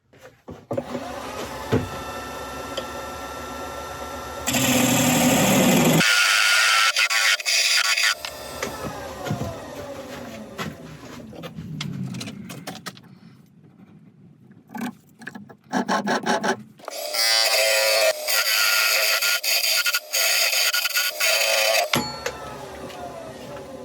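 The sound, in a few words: woodturning lathe cutting a tenon on oak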